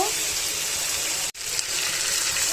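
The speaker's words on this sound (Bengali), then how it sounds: "এখন একটু ঝোল দিয়ে দিব" Broth pours into a pan of chicken curry, a steady rushing gush of liquid that cuts out for a moment midway before continuing.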